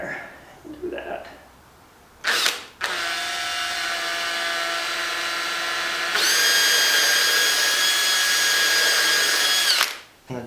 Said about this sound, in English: we're going to start with the pilot hole